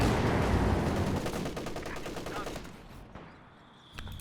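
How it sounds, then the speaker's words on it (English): Machine gun and mortar fire in a strategy video game, with dense rapid bursts of gunfire close and loud that thin out toward the end, followed by a sharper single blast, under a voice talking. "Mortar team blasting out this machine gun in the building."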